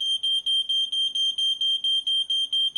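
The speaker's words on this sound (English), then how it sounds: "It's a smoke detector." Smoke detector in a high-rise room sounding rapid, evenly spaced high-pitched electronic beeps, loud and alone without talk.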